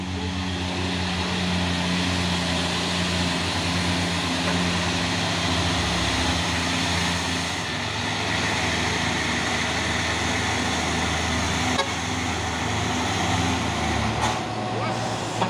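A heavy Hino truck engine strains uphill, droning continuously at a labored, steady pitch, loud and close, with a brief hiss near the end.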